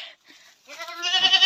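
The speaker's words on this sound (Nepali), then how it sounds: "यहाँ गाउँघरमा त बाख्रै बाख्रा" Goats in a village bleat close by, a short quiet bleat followed by a louder, wavering drawn-out cry, with little else around.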